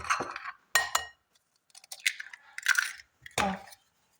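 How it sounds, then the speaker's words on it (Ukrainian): Sharp cracks and clinks against a bowl as two eggs are cracked in, a few distinct taps with brief pauses, close and clear with no talking. "вбиваю два яйця"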